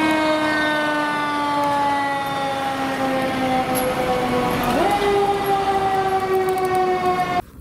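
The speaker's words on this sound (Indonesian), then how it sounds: "Wow, ada mobil pemadam kebakaran," A toy fire truck's electronic siren wails continuously in a steady, loud tone that dips and shifts pitch partway through before cutting off at the end, with no talking over it.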